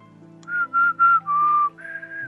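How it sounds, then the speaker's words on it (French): A person whistles a short melody in five sustained tones, loud and close, with the second and third notes strongest and the last two slightly softer, over a quiet background of low hum during a Minecraft UHC session. "Arrête de siffler, s'il te plaît, ça fait mal aux oreilles."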